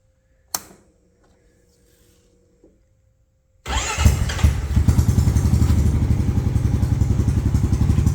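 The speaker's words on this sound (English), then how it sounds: "And that exhaust sounds absolutely freaking sick." A Honda engine previously tuned for a supercharger cranks and fires up after a click and a brief starter whir, then settles into a loud, close, steady idle with a throaty exhaust rumble.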